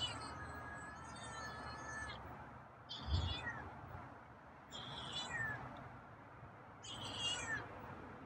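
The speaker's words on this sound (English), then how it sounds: "I'm not sure how to interpret that meow, but yeah, not as loud as sometimes" Drawn-out meows from a feral cat, four separate calls spread through the stretch, each long and wavering, at moderate loudness over quiet background hiss.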